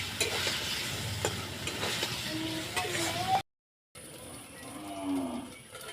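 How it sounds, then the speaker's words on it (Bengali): Onion paste stirred and fried into a curry of pointed gourd, potato and lentil paste, giving a steady close sizzle with scraping strokes, a brief dropout, then quieter frying with faint lowing of cattle in the background. "আবার নেড়ে চেড়ে একটু কষিয়ে নেব।"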